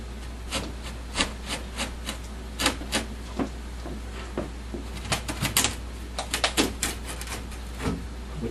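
Wooden bottom panel of a MAME arcade cabinet worked loose by hand: scattered knocks, rubs and scraping wood contacts, sharper clustered clicks near the end, close and moderately loud with no talking.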